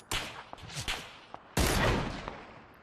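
Sniper rifle fire from an AWM or M24 in PlayerUnknown's Battlegrounds: a few sharp, loud shots, the last one heavier with a long echoing tail, with quieter cracks in between.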